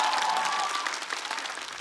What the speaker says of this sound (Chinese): 场下掌声雷动